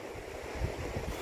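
A clear mountain river in Dagomys, Sochi, rushes past in a brief, steady broadband roar of flowing water with some wind buffeting, close and moderately loud.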